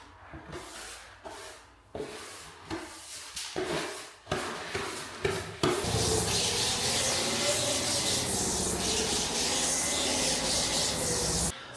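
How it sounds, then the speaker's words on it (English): Scraping, rubbing strokes come in short bursts, then give way to a steady, loud machine drone of floor sanding in a Victorian semi-detached house that runs continuously to the end. "Sanding. Second room."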